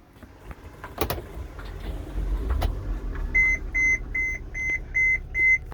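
A vehicle's ignition is switched on in a clinic vehicle: a few clunks and switch clicks, then a run of six evenly spaced, fairly loud electronic warning beeps in a steady rhythm.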